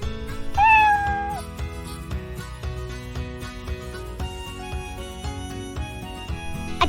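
A single cartoonish cat meow sound effect in Scratch rises and falls early on, set over a busy bed of playful background music that continues throughout.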